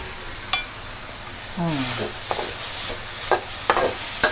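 Fish sauce sizzles and crackles steadily in a hot wok while a utensil scrapes and clinks against it, with a brief voice partway through.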